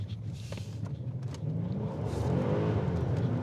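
Alpina B7 saloon rolling over a rough road on large wheels, a steady low engine and tyre rumble that thickens and grows slightly louder partway through, with no voices.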